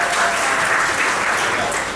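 An audience at a farewell play performance claps in dense, continuous applause. The sound is loud and even from start to finish.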